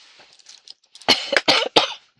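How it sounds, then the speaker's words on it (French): A person coughs several times in quick succession, sharp and close, after a few faint soft breaths. "Ça tousse encore, que voulez-vous?"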